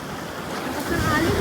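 Strong ocean waves wash onto a beach, a steady rushing surf with wind buffeting the microphone, building slightly louder toward the end.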